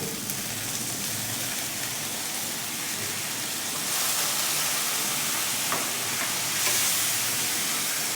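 Coriander powder, salt, sugar and chilli powder sizzling in a pan with splashes of water while being stirred, a steady hissing fry that swells louder midway and stays constant throughout, with no voices.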